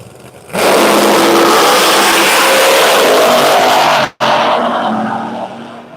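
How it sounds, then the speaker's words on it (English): A Pro Mod drag race car at Bradenton Motorsports Park bursts into a loud, sustained roaring run, cuts out for an instant, then roars again before slowly fading. "It's super loud here with the cars running with the Pro Mod car."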